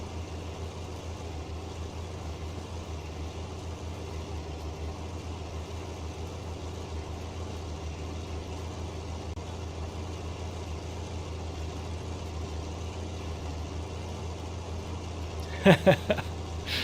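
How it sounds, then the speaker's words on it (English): A combine harvester engine in Farming Simulator 19 runs at a steady low idle throughout, a constant deep drone with no change in pitch and a couple of brief knocks near the end. "The noise, the engine noise in is really, really accurate to what it sounds like in real life as well"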